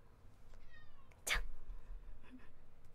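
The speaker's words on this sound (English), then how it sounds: "It's my cat." A pet cat gives a single clear meow, fairly close and short, over quiet room tone with a few faint thin whistles before it and soft noises after.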